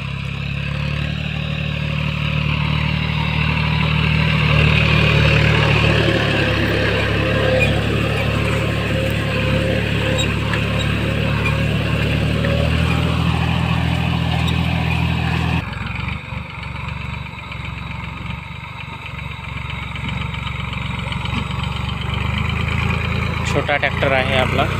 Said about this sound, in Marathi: छोटा ट्रॅक्टर आहे आपला.